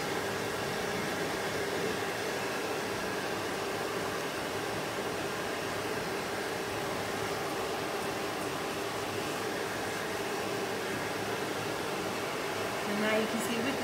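A hair dryer blows on a poodle's coat during fluff drying, making a steady, even whoosh of airflow that holds constant throughout at moderate loudness.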